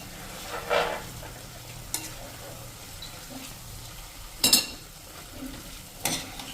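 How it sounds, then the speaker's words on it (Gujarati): Pearl millet khichdi with moong dal, vegetables and spices stirred in a pot over a medium flame: a low sizzle with a few distinct spoon scrapes and clinks spaced a second or more apart, close and fairly quiet, with no talking. "અને હવે આ બધું આપણે મિક્સ કરી લેશું."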